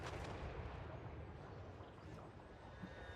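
Mortar artillery barrages in a Total War Warhammer 3 battle: continuous loud rumbling booms and blasts blending into a dense wall of battlefield noise with no pauses.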